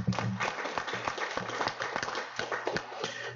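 A small group claps at a school board meeting, with scattered, uneven hand claps and a few sharp taps that stay modest in loudness over a low steady hum.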